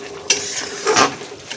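Taro stolon curry with shrimp and poppy-mustard paste being stirred with mustard oil in a pan: a sharp utensil clack, then a soft scraping stir and low sizzle, close and clear, no voices.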